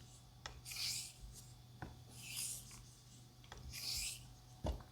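A Böker straight razor being honed in X strokes on a wet Naniwa 5000 whetstone, with three soft, close rasping scrapes spaced about a second and a half apart, plus faint taps between them.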